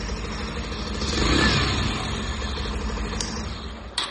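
Close-up engine sound of a 2020 Bajaj Pulsar 150 BS6 fuel-injected motorcycle, a steady idling rumble that briefly rises before settling, with a small click near the end and no voices.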